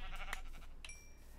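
Sheep in the Minecraft video game give faint bleats, a couple of short calls, one early and one near the middle, over a quiet background.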